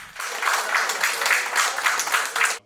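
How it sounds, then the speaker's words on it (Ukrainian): Applause from a few dozen supporters in a courtroom as a defendant is brought in, dense steady clapping close by that fills the room and then stops abruptly. "У залі суду Романа Червінського зустріли оплесками учасники акції на його підтримку"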